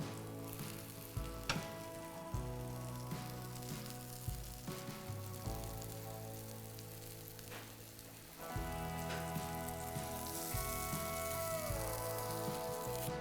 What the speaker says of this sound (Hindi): इसीलिए उसको नॉन स्टिक में आप पका रहे हैं